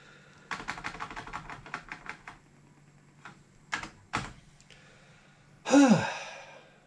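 Keys clatter on an Orel BK-08 computer keyboard in a quick burst of close, rapid typing, then a pause, a few scattered key presses, and a louder final thump.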